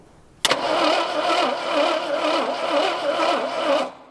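An AMC Rebel engine with zero compression, run on brake cleaner instead of gas, cranks and catches, then runs roughly and loudly for about three and a half seconds before cutting out.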